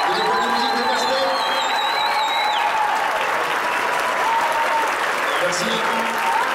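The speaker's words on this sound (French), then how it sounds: "On applaudit les musiciens de l'orchestre, s'il vous plaît, de l'école de musique de Castel." An audience applauds orchestra musicians from a music school at a Disney-themed concert, with sustained clapping and crowd noise under voices and lingering tonal sounds.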